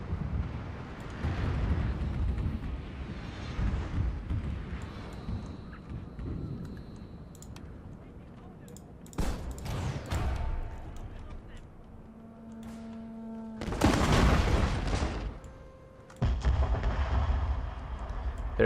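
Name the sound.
artillery firing shrapnel in Fall of the Samurai video game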